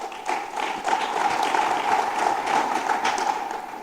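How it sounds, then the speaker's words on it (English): An audience at a Laikipia County gubernatorial debate in Kenya applauds steadily at the opening, a continuous wash of many hands clapping at moderate distance, filling the room evenly throughout. "we're getting our clapping out of the way at the beginning"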